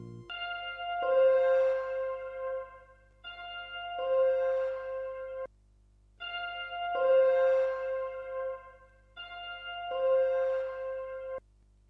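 A Fender Squier Strat guitar layer, heavily effected so it hardly sounds like a guitar, plays four slow bell-like swelling phrases, each ringing out before a brief gap, clean and alone.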